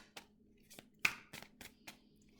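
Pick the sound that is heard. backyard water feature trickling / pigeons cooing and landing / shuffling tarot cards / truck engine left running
shuffling tarot cards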